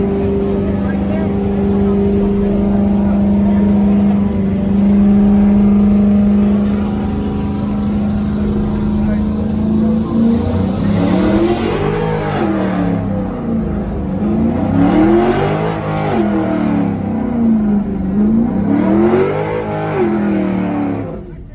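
A Dodge Hellcat at a car meet idles with a loud, steady rumble that rises into repeated revving swells, with people talking nearby over the engine.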